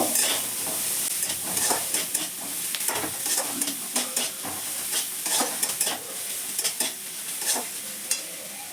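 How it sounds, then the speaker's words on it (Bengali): Onions sizzle steadily in a hot pan, with frequent scraping and stirring strokes breaking through the crackle at close range. "পেঁয়াজটা ভালো করে বেঁধে নেব"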